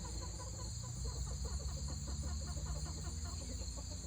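Rooster clucking in a backyard flock, a steady run of short repeated clucks up close over a constant low hum, with no one talking.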